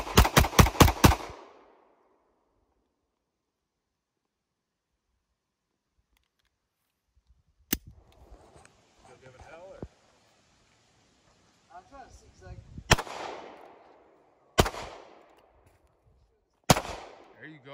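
Gunshots ring out at a shooting range: a rapid string of five loud, close shots, then a pause, then several single sharp shots spaced apart, with people talking between them.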